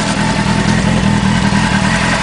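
A yellow 2000 Honda Hornet motorcycle idles on standard exhaust cans, a close, steady, fast-pulsing engine note, smooth and even with light mechanical clatter.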